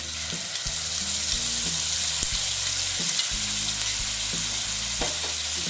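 Fish fries loudly in a pan as a mustard-poppy paste goes in, a thick, unbroken sizzle with low bubbling and occasional utensil knocks, near and steady, no voices.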